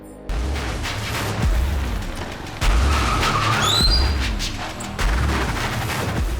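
Car tires skid with a screech over heavy, rumbling engine and impact noise on a street, bursts repeating several times in a loud, busy scene.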